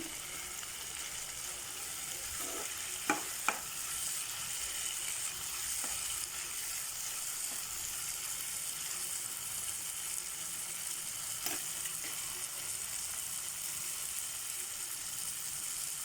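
Ridge gourd curry simmers and fries in a pan, a steady soft sizzle throughout with a few light clinks of stirring, close and moderately loud, no voices.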